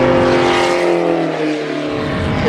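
Spec Racer Ford race car engine drones loudly and steadily from inside the car, a strong harmonic whine holding and shifting slightly in pitch, with no voices.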